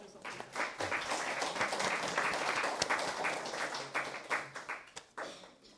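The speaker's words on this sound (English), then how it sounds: "let's please give a round of applause for Professor Sophie" An audience applauds a visiting professor at a talk, a sustained, fairly soft patter of many hands clapping that swells and then thins into looser claps toward the end.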